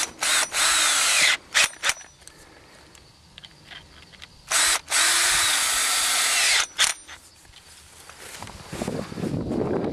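Close, loud bursts from a power drill tightening hose clamps onto one-inch black poly pipe at a deep well installation, with several short whirs and two longer sustained runs, and faint rustling handling noise near the end.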